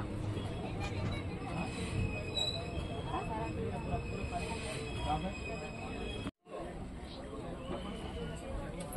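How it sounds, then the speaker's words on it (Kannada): A train rumbles slowly with squealing wheels and rattling carriages as it comes to a halt at Doddaballapur railway station, while a crowd murmurs in the background. "ದೊಡ್ಡಬಳ್ಳಾಪುರ ರೈಲ್ವೆ ಸ್ಟೇಷನ್ಗೆ ನಮ್ಮ ಟ್ರೈನ್ ಬಂದಿದೆ"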